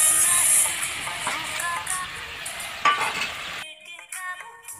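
Maggi noodles stirred and fried in a pan of spiced masala with vinegar and soy sauce give a steady close sizzle with scraping spatula strokes, then the sizzle suddenly drops away, leaving faint kitchen clatter.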